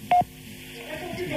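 A telephone line plays a short, loud dialing tone at the start, followed by fainter line tones and hiss as a prank call connects.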